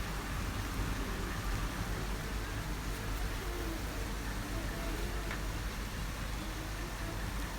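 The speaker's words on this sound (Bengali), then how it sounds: "শুরু হয়েছে মুসলধারে বৃষ্টি" Heavy, torrential nighttime rain heard from a veranda: a steady, dense, hissing wash of downpour that runs unbroken and fairly faint throughout.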